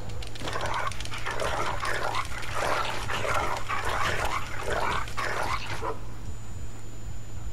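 A dog in the Game of Thrones video game growls and barks in a rough, continuous snarling burst for about six seconds over a steady low game hum, then cuts off abruptly.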